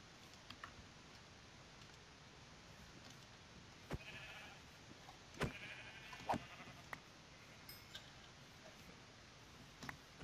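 Sheep in Minecraft let out a few short, faint bleats scattered through a quiet game scene, with soft clicks and light background noise, and nobody talking.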